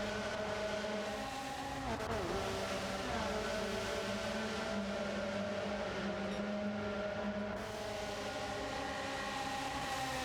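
A pack of racing karts screams around a track at Miyabi during a GTO kart race, engines droning continuously and overlapping with shifting pitch, loud and sustained throughout.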